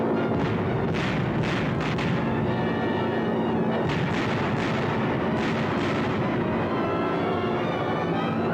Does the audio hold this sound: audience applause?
no